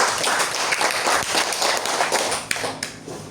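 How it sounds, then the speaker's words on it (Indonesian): An audience applauds a presenter at a school event, dense clapping that stays loud and then thins toward the end with a few scattered claps. "Kita berikan tepuk tangan, aplaus buat Ibu."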